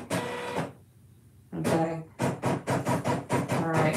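A computerized embroidery sewing machine stitches in quick mechanical runs, a steady whirring pattern broken by a short pause and then several evenly spaced bursts, close and clear.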